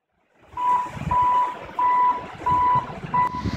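A rescue truck reverses near a flash-flood crossing in the Arizona mountains, its backup alarm sounding five loud, steady beeps at an even pace over low engine rumble, with no talk.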